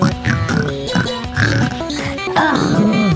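A person's voice imitating a pig with a rapid series of loud, throaty grunts and oinks while playing the Friday Night Funkin game, close to the microphone and fairly continuous.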